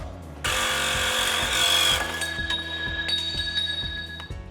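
A power tool grinds a suspension part on a Ford F-450, a broad loud burst that settles into a steady whine with a low rhythmic thumping beneath, continuing nearby without talk.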